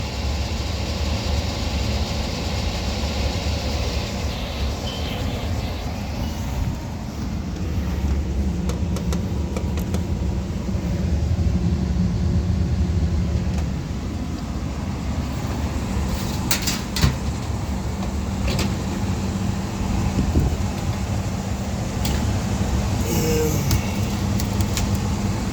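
A Lennox furnace blowing cold air runs at high stage, its inducer and blower motor producing a loud, steady whooshing roar that continues throughout, with a few light clicks and knocks over it.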